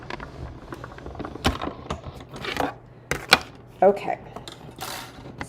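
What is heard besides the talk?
die-cutting machine running plates through for card making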